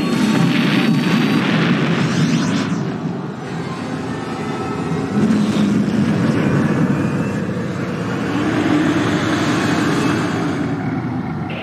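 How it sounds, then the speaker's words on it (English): Huge chain-reaction explosions rumble across a planet's surface in Quake 2 on PS1, a sustained loud roaring boom that swells and rolls on for many seconds with no speech. "We're reporting total destruction of primary target and huge secondary chain reaction explosions all across the planet's surface"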